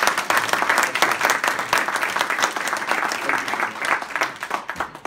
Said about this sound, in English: I just wanted to give you a round of applause